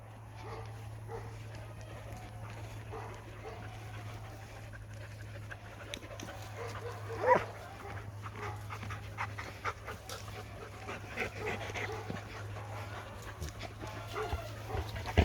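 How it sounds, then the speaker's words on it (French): Dogs somewhere below on a hot day, heard at a distance: steady panting with occasional short barks and yips over a constant low hum, no voices. "j'entends les chiens en bas"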